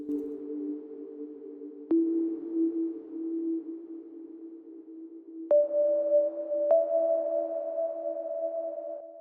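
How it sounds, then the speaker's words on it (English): Synthesized bell tones in an ambient drone track for the game Lorn's Lure, ringing out over a sustained low pad with a few sharp strikes and a higher tone entering partway, soft and reverberant with no voices. "got some bells here."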